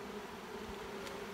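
Honey bees buzz in a small nuc hive in a sustainable apiary, a steady, low, continuous hum that stays faint and even throughout with no voices.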